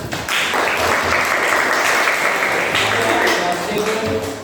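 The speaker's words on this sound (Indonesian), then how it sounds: "Ya, oke, tepuk tangan." A class of schoolchildren claps hands together after a lesson on the solar system, with loud, close, brisk applause running throughout and some children's voices mixed in.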